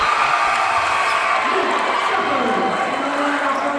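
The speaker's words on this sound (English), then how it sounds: "Now the crowd trying to unnerve Maddie, and they can't." Basketball crowd in a high school gym roaring steadily to unnerve a player late in the fourth quarter, a dense continuous wash of cheers and shouts under a commentator's voice.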